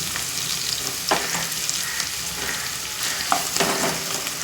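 Okra pieces fry loudly with onion and chilli in a pan, a dense continuous sizzle broken by a few scraping stirs of a spoon, close and without voices.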